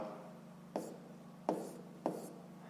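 Numbers being written by hand during a fifth-grade maths exercise, heard as three short, crisp pen taps and strokes on paper at uneven intervals over a low background hum.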